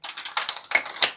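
A tarot deck is riffle shuffled by hand, giving a quick burst of crisp, papery flutters and soft clicks over about a second, close and alone.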